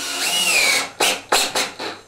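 A power driver screws curved plasterboard onto a wooden frame for an arch, with a long whirring run followed by three short bursts of the driver, close and loud.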